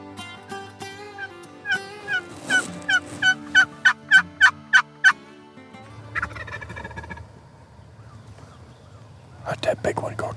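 A wild turkey gobbler gobbles and clucks during a hunt, a rapid string of sharp loud calls in a steady rhythm, followed by a quieter pause and another burst of gobbling near the end.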